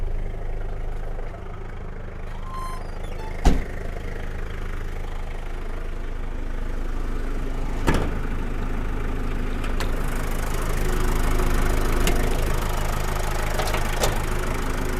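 The 2800 cc engine of a 1997 Daihatsu Taft Rocky idles steadily with a low, even rumble, broken by a few sharp clicks and taps.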